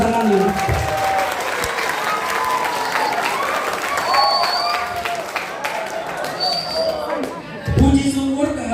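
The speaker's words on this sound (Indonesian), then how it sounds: "Tepuk tangan dulu" An audience at a Youth Pledge Day motivational seminar applauds, a steady crowd clapping mixed with chatter and some cheering, with voices talking over it throughout.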